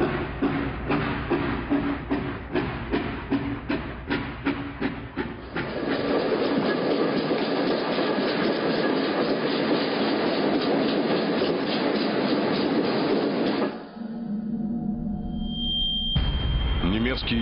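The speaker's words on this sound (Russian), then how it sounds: "Составы двинулись к Дону." Troop trains roll along a railway toward the Don, with steady rhythmic clickety-clack of wagon wheels, loud and near, that gives way to a continuous rumbling roar and ends with a brief high tone.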